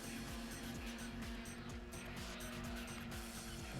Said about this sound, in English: VTEC just kicked in, yo.